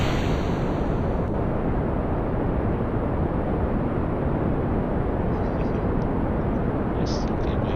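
Rocket engine throttling up in Kerbal Space Program during a Mun rescue mission: a steady, loud, dense roar that holds unbroken throughout.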